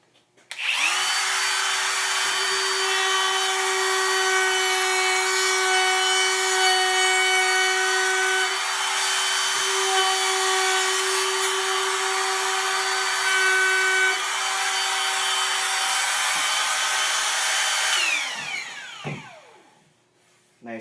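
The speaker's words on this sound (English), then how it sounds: "Alright, let's do some round overs." A RIDGID 18V compact router rounds over a wooden edge with a loud, steady high whine that holds for most of the span, winds down near the end with a few clunks, and has no voices over it.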